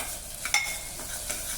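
Onions, chopped green chillies and curry leaves frying in oil in a pan for a gongura chicken curry, a soft, steady sizzle with a couple of brief stirring clatters, close and quiet, with no talking.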